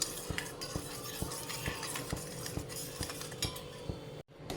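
A spoon mixing turmeric, chili powder and salt in a metal bowl, a steady run of rhythmic clinks and scrapes about twice a second, close and clear, no voices.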